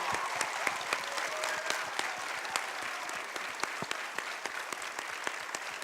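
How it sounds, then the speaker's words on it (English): A theatre audience at a Lion King talk applauds warmly, with dense, steady clapping from a sizable crowd that continues evenly throughout without talk. "How about a nice round of applause for them giving us some of their time?"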